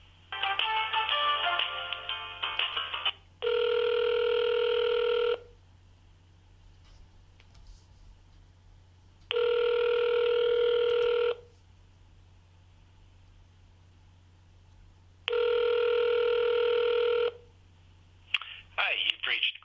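A telephone ringback tone on a line being transferred, sounding as steady two-second bursts with roughly four seconds of quiet between them, repeated several times over a faint line hiss.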